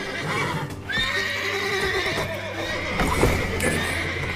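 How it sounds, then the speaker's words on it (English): Horse whinnying loudly and close in The Witcher 3 video game, with clip-clopping hooves and a steady background hum throughout. "Gotta calm all the horses before we meet the guards."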